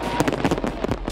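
Backyard consumer fireworks for a summer display bursting in a rapid cluster of loud cracks and pops, several overlapping bangs within about a second.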